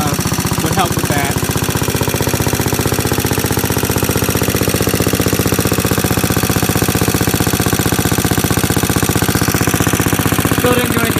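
An antique Onan 101 electric plant engine runs loud and close with a fast, steady hammering exhaust beat that never lets up, rough and noisy through a poor muffler.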